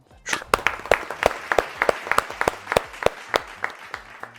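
An audience at a televised cooking competition claps together, a near, crisp burst of rhythmic applause with evenly spaced hand claps that keeps going throughout.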